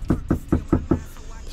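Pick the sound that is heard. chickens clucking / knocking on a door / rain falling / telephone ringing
knocking on a door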